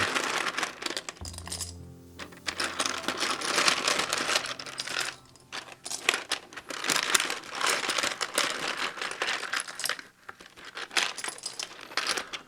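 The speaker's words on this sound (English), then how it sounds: "This is how I open it up to find my keycaps." A box of keycaps is opened close up. The sound is a run of crinkling packaging and rustling, with small plastic clicks and clatters, plus a brief low thump near the start.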